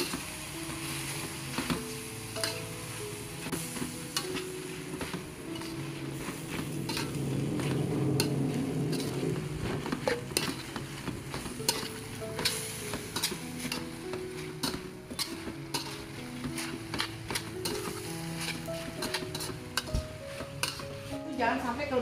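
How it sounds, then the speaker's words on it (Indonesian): Fish and glass noodles being stirred together in a pot for panada, irregular scraping and clinking of utensil against cookware throughout, moderately close with light background noise. "lalu kita aduk-aduk sampai tercampur rata antara ikan dan soun-nya"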